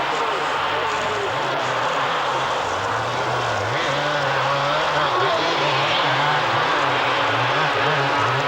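Honda France 250 enduro motorcycle struggling through a muddy mire at the 1997 Gilles Lalay Classic in France, its engine revving in a steady wavering drone with rising and falling pitch, beneath continuous commentary.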